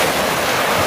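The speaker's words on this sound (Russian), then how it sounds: "Вот смотрите, какие волны." Stormy sea waves breaking on the shore at Lazarevskoye after rain, a loud continuous roar of surf with wind buffeting the microphone and no speech.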